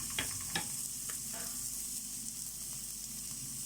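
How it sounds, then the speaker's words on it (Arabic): A piece of meat fat melts in a hot pan with a steady, close, even sizzle, broken by a few light clicks and scrapes in the first couple of seconds. "هبدا اسيح كده حته الدهنه دي قبل ما اشوح اللحمه خالص"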